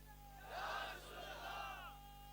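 A crowd at a religious gathering shouts a slogan chant in unison, loud, rising voices that swell and hold for about two seconds over steady background hum.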